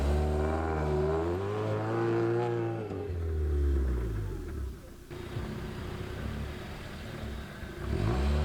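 Honda Civic wagon engine in super-low gear climbing a hill, loud revs rising and falling in pitch, close and sustained, with a brief dip and surge near the end.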